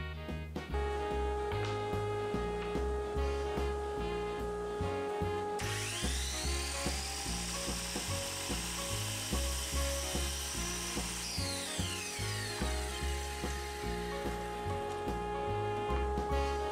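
Wooden segments for a segmented turned vessel being sanded on a power sander, giving a steady motor drone with rhythmic rubbing and a rising whine midway, continuous and fairly loud with no voices.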